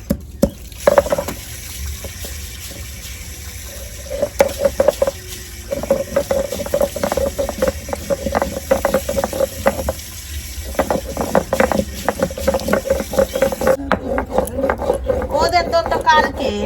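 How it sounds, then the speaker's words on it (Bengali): Whole garam masala of cinnamon, clove and cardamom ground on a stone or in a mortar, a rapid run of sharp, near scraping and crushing strokes over a steady kitchen background, with someone talking at times. "এখন আমি একটু গরম মশলা বেটে নেব"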